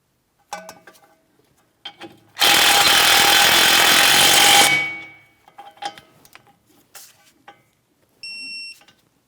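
A 15 mm mounting nut on a 2007-2014 Ford Edge steering knuckle is run down with a power tool in one loud, sustained buzzing burst of about two seconds, framed by scattered clinks and a few faint electronic beeps.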